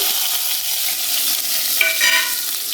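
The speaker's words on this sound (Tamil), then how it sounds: "எண்ணெய் காய்ந்த பிறகு கடு உளுந்து போட்டுக்கொள்ளுங்கள்" Mustard seeds and urad dal fry in hot oil with a loud, dense, continuous close sizzle and faint crackling throughout, with no voices.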